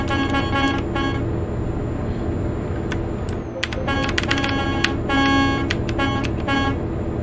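Truck horn in Euro Truck Simulator 2, loud blasts sounding repeatedly over a steady engine and traffic drone, sharp bursts scattered through the stretch.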